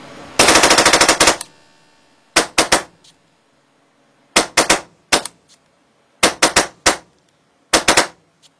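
An airsoft AEG fitted with an AGD ULT trigger fires in sharp, rapid bursts, a long burst first and then several short double and triple bursts with silent gaps between, loud and close.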